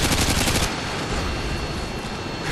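An ACR assault rifle in Modern Warfare 2 fires a rapid, loud burst of shots, then the firing stops and a steady background hiss remains.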